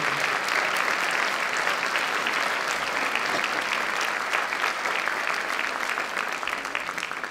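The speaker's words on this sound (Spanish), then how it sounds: "Un aplauso para el doctor y licenciado" Steady applause from an event audience for a doctor being introduced, dense and sustained clapping that fills the whole stretch at even loudness, with no voices standing out.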